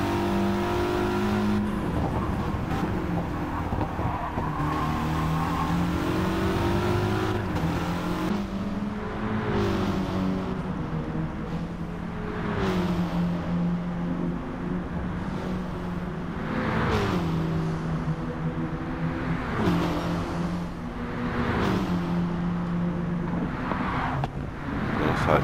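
Mitsubishi Lancer race car engine in Gran Turismo 7 during a one-hour endurance race, revving steadily and rising and falling through gear changes and corners, loud and continuous with no talk over it.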